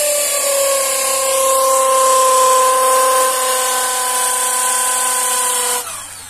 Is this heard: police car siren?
no